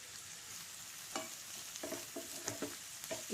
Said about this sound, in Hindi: इसे भी सौटे कर लें।